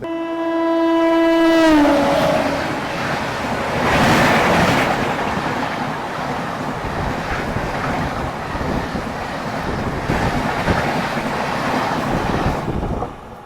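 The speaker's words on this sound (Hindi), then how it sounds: "मतलब ये कि एक और ट्रेन जो है वो ओवरटेक करने वाली है हमारी इस ट्रेन को" On the Jaipur to Hyderabad line, a passing train's loud horn blares for about two seconds and then fades, followed by a long, roaring rush of a train overtaking close by, with rhythmic rattling of wheels and cars.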